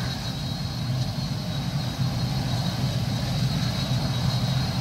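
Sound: 802 aircraft engine near runway

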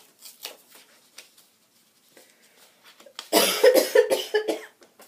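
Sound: coughing

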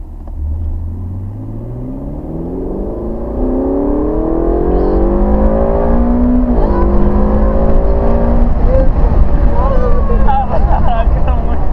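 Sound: car engine revving through gear changes

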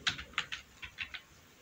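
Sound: typing JavaScript code on a computer keyboard

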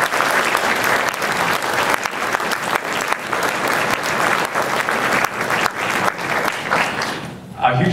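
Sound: audience applause for Kappa Kappa Psi band fraternity

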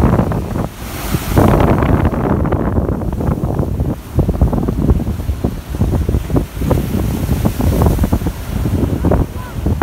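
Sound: sea waves and cold wind at the corniche

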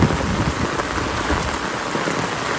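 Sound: heavy rain falling

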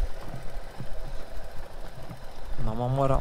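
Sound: car engine braking in first gear on a hill road

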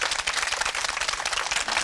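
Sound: audience applause for a Vespa restorer on TV

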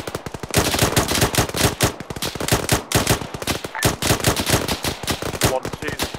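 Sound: gunfire in a military video game operation

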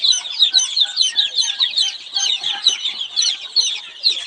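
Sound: native Bengali chickens and chicks clucking

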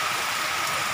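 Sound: heavy rain falling

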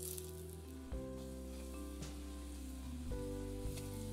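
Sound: pork seasoned with flour frying in canola oil, cast iron pan

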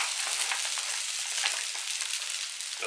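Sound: spätzle frying in a pan

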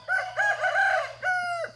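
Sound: rooster crowing

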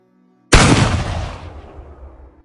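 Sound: gunshot

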